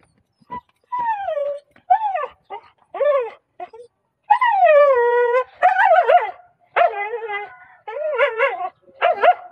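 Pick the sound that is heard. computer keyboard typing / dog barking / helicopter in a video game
dog barking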